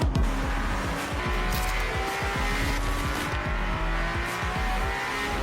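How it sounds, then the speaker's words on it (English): A Ferrari Challenge race car with a V6 engine races at Monza, its engine roaring steadily close up with rapid repeated shifts and revs, loud and alone without talk. "This V6 is amazing, it's crazy."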